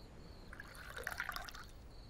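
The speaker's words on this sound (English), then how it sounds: "Fill stone bowl with lake water." A stone bowl is filled with lake water in a top-down survival video game: a brief, quiet splash and trickle of liquid that rises and then fades over a soft background hiss.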